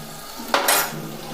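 Amaranth leaves dropped into a clay cooking pot with softened onions, a short rustling burst and a brief clatter in the middle of a quiet kitchen background.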